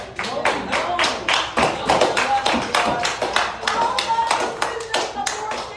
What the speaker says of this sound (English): can we get a round of applause for this least genetic diverse group